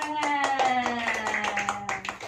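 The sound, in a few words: children clapping hands in class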